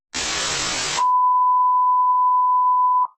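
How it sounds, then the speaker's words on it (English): A phone app notification gives a steady electronic beep lasting about two seconds. A short burst of hiss comes just before it. "I had like a weird notification about a keyboard or something, some app like malfunctioning"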